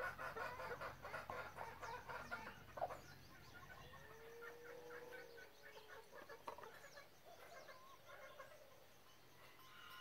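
Chickens on a ranch clucking and calling from several spots at once, soft and somewhat distant, in a busy overlapping chatter over low outdoor background noise.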